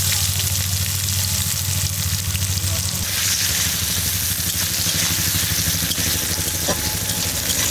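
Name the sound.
onions frying in oil with bay leaf and cumin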